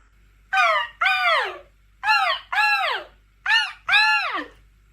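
A voice imitates a seagull call in a children's learning setting, making six loud, descending squawking cries in three pairs, close and with no other talk.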